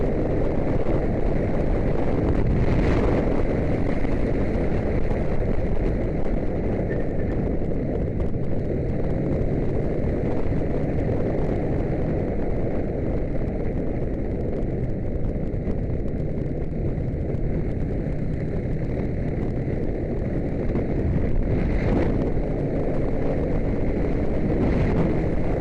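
A Vincent motorcycle accelerating out of a corner on a closed road lap, a steady dense engine roar with heavy wind buffeting at the microphone throughout, no voices.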